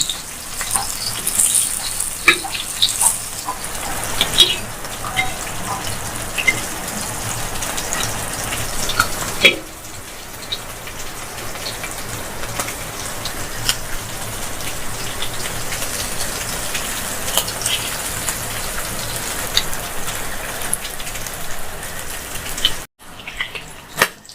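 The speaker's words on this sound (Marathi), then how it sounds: "आता हे मासे तळताना मध्यम गॅसवरती आम्ही तळतो" Gabholi fish (first-rain fish) frying in oil over a medium gas flame: a continuous rain-like sizzle, steady and close, briefly softening partway through and cutting off at the very end.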